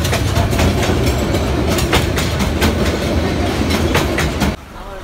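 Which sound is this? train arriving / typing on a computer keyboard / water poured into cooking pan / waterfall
train arriving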